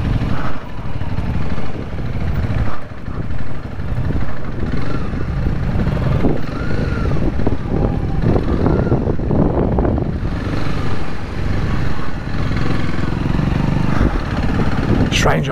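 Honda CRF300 motorcycle engine under way, a loud continuous buzzing drone with surging on-off throttle and wind rumble, with occasional speech over it.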